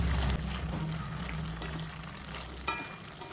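Boiled potatoes and pumpkin stalks stirred gently in a pan over medium-high gas, a soft continuous sizzle and bubbling with faint scraping, fairly quiet and without talk.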